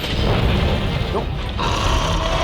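The monster Bazelgeuse in Monster Hunter: World, a loud, dense rumbling and crashing mass of monster noise and mechanical clatter running continuously throughout.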